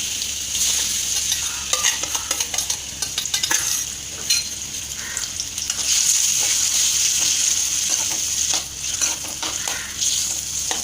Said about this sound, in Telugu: 1 స్పూన్ ఆయిల్ వేసుకొని ఇది ఫ్రై చేసుకోవాలి